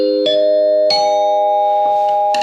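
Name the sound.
dinner chime xylophone struck, sounding like a doorbell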